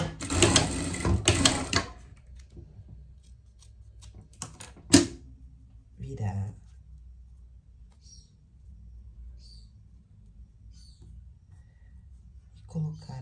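A sewing machine stitches a seam into fabric for a pet pajama, running in a loud burst of about two seconds, then a shorter burst, followed by quiet handling and faint small sounds.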